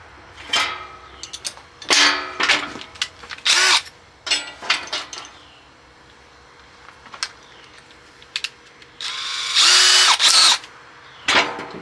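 Several short, loud bursts of a hammer drill running on hammer setting with a 1/4 inch bit, separated by pauses, with clicks and handling noises in between.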